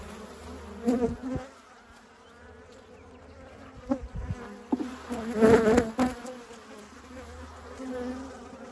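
Honeybees, drones among them, drone loudly in an open beehive being split in spring. A continuous close buzz rises into louder bursts as insects fly near, with no talking.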